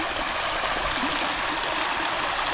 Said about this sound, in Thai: บรรยากาศลำธารนะครับเนาะ